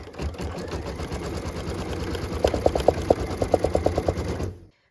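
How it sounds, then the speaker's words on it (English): Embroidery sewing machine stitching a cut line on fabric held in a hoop, a close mechanical whir with rapid rhythmic stitch pulses in two quick bursts before it stops. "we're going to return our hoop to the machine. What we're stitching now is our next cut line"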